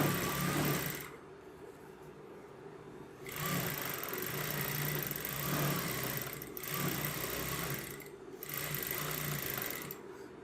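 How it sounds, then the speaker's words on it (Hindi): Sewing machine stitching around the corner of a Rajputi kurti, a steady close mechanical whir broken by short pauses near one, six and eight seconds, with no voices. "अब यहाँ पर भी इसी तरीके से मशीन की सिलाई कर देनी है।"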